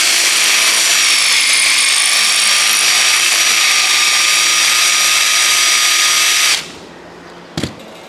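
A power drill bores a small hole through aluminum on a crushed push broom repair, whining loud and close for about six seconds, then cutting off, followed by a brief clack.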